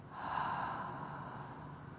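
A single long breath pushed out through the mouth, a soft, airy rush that swells and then slowly fades, up close and quiet, with no talking.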